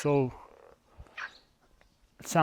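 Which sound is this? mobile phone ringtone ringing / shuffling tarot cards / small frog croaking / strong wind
small frog croaking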